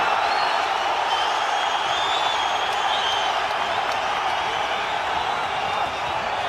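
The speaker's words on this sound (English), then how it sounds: "Crowd trying to rally support for Kambosos here." Boxing arena crowd cheering for Kambosos during a title fight, a dense, loud, continuous roar of voices that holds steady throughout.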